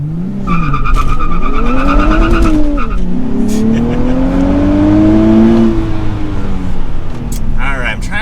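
A 2023 Nissan Z with a manual gearbox launches with traction control off: the engine revs hard and rises through gears, tires squeal loudly, and the sound stays close and strong throughout, with a voice speaking over it.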